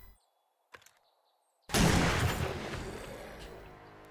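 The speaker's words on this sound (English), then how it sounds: "let's have a play with our double-barreled shotgun. Bear in mind, weaponry is noisy." A double-barreled shotgun fires once in the video game 7 Days to Die, a loud sudden blast after near silence with a few faint clicks, decaying in a long rumbling tail.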